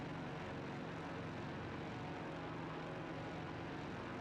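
Steady broadband drone of a piston propeller airliner's engines at half throttle in a flight simulator, continuous and even with no talk, likely a Lockheed Constellation or Boeing 247D.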